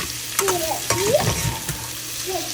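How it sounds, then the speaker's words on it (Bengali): Tofu pieces and vegetables frying together in a pan, with a steady sizzle and stirring scrapes running under faint voice-like tones throughout, close and moderately loud. "এবার হ্যাঁ সবজি এর মধ্যে দিয়ে দিচ্ছি টোফু।"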